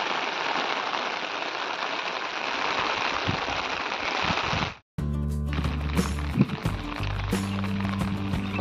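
Rain falls during sunshine as a steady dense hiss, then after a sudden cut the scene shifts to a rumbling, noisier outdoor mix with low engine-like hum and scattered knocks.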